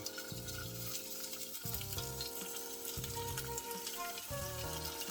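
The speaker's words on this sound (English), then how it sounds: "For this monkfish, into the pan, kind of the fatter side down first for a minute." Monkfish sears fat side down in a hot pan with a soft, continuous sizzle and some stirring. It is quiet and low in level, set against a steady tonal background.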